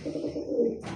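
A pigeon, the young of a large pet pigeon, gives a low soft coo that runs steadily through the short moment at moderate loudness, with a brief hiss near the end.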